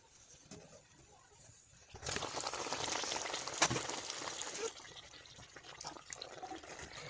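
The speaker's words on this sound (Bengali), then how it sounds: "তেলটা আমার গরম হয়ে গেছে, এবার একটা একটা করে পুরিগুলোকে দিয়ে দেবো" Chana dal puris drop into hot oil one at a time, and a loud, bubbling sizzle swells after a quiet start, peaks, then settles into a softer crackle.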